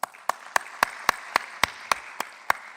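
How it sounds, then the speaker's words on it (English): Sparse, evenly spaced hand claps, about ten sharp strikes in a steady rhythm, sound faintly in a conference auditorium in Lisbon after a panel session. "So a round of applause for the panel"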